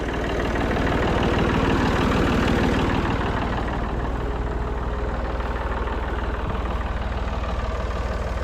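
A pump sprayer runs steadily in a hay field, pumping DEF fluid at pressure. It is a continuous mid-to-low motor drone with a constant hiss, close and fairly loud throughout with no break.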